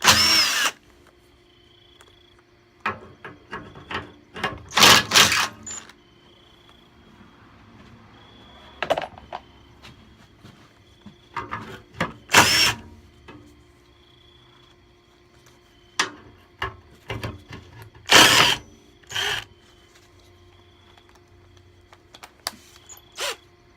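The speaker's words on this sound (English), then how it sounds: "I'm just gonna show you that I do use power tools at times, just for quick stuff" A power tool whirs in several short bursts separated by quieter gaps with small clicks and handling noises.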